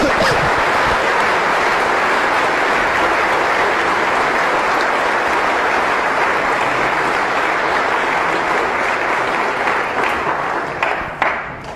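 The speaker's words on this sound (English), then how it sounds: "Let's put our hands together for a warm round of applause for Jonathan Safran Foer and Joyce Carol Oat" A large audience at a Princeton University lecture claps in a dense, steady roar of applause that thins out near the end.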